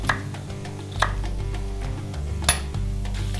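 A knife cutting carrots into chunks for Uzbek dimlama: a few sharp, separate chops spaced about a second apart, close and crisp over a low steady kitchen hum.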